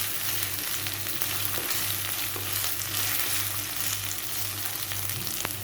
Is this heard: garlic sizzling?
yes